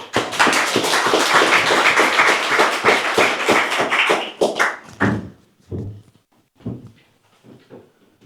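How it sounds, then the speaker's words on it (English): Audience applause for lecturer Dick Werry after a talk on neoliberalism, a dense burst of clapping for about four seconds that quickly thins to a few scattered claps and faint room noise. "Another round of applause for Dick Werry."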